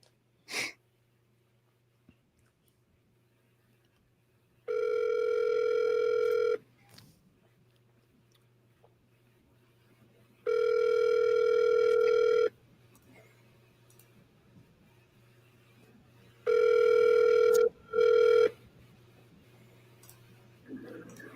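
An outgoing phone call rings out in three long, evenly spaced ringback tones, each about two seconds, loud and clear over a low steady hum, with small clicks between rings.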